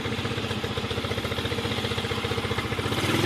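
A Romet K 125 motorcycle engine idling during a cold winter warm-up, a steady rapid single-cylinder thump with mechanical clatter, close and unbroken for the whole stretch.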